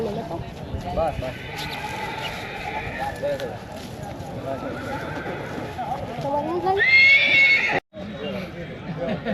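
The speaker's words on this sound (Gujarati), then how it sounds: "કાર્તિકભાઈ આવી ગયા છે ઘોડાની ખરીદીની અંદર" A horse neighs at a horse market amid busy crowd noise, with a clear whinny near the end rising over people talking close by and continuous outdoor bustle.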